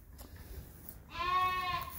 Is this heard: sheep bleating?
yes